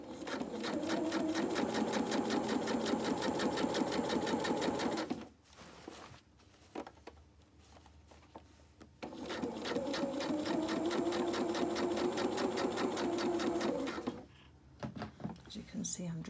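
Sewing machine stitching suit trousers while letting out the waist, running in two long loud bursts separated by a quieter pause with small handling noises.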